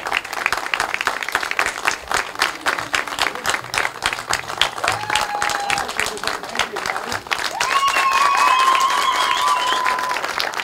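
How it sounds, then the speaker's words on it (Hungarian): Outdoor audience applause for a band at a village oven-baking festival in Galgahévíz, Hungary, with rapid clapping that swells louder toward the end as an announcer speaks and brief whistles cut through. "nagy taps nekik is"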